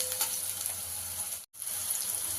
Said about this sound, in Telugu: మనం ఇలాగనే ఫ్రై చేసుకోవాలి.